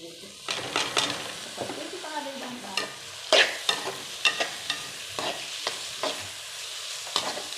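Chopped onions fry in ghee in a pan. A low sizzle runs under repeated sharp scrapes and taps from a stirring spoon that come at an uneven, close-up rhythm. No voices are heard.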